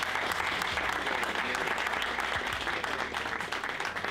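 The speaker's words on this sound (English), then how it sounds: "let's give them a great round of applause" Loud, dense applause from a gathered crowd honouring student athletes at a school signing ceremony, steady throughout with no gaps.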